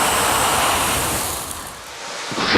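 Water-based extinguisher sprayed onto a kitchen grease fire makes the flames flare up to the ceiling, giving a loud, steady rushing roar that eases slightly before a brief sharp burst near the end.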